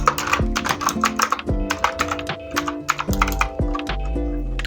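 Computer keyboard typing while entering text in Figma, rapid clicky keystrokes in bursts, close and fairly loud, with a steady tonal musical bed underneath and no talking.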